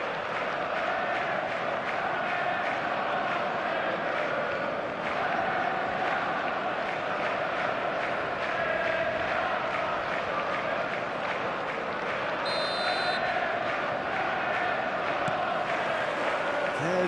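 A steady, dense roar from a big stadium crowd on match day in an eFootball game, with Liverpool playing, sustained at an even level for the whole stretch with scattered shouts and chants rising through it.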